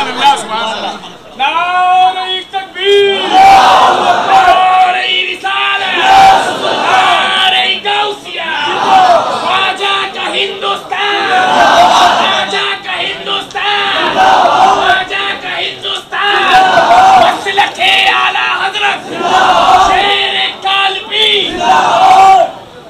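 A large crowd at a religious gathering roars back in answer to a takbir call, massed voices shouting in repeated loud surges over a sustained, reverberant hubbub of speech and amplified calls.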